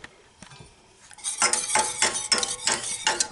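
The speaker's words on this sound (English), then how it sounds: "So we'll keep stirring and cooking" A spoon stirs and scrapes coconut cream pie filling as it cooks toward a thick pudding in a pot, a steady run of close clinking, scraping strokes following a quieter start.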